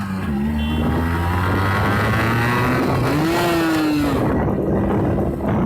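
A 1991 Yamaha RX100 two-stroke motorcycle engine revs hard and steadily, its pitch climbing and dipping as the throttle is worked, loud and close.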